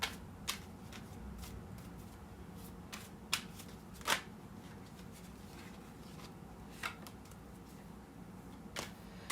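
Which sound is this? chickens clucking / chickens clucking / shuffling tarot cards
shuffling tarot cards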